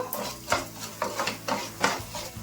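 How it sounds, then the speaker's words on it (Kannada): Coriander seeds fry in a pan for sambar, stirred with a spoon that scrapes and rattles against the metal in quick repeated strokes over a soft, steady sizzle. "ಧನಿಯಾನ ಒಂದು ಸ್ವಲ್ಪ ಫ್ರೈ ಮಾಡ್ಕೋಬೇಕು"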